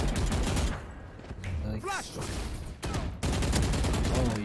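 Bursts of rapid gunfire crackle through a video game shootout in a last-player-standing round. Volleys come in quick clusters at moderate loudness, with a brief voice-like sound in the middle.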